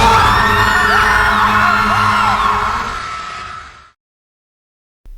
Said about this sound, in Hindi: और कुछ ही पलों में एक दर्द भरी चीख